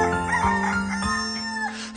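A rooster's cock-a-doodle-doo crow rings out once, loud and close, a clear harmonic call lasting about two seconds with nothing else around it.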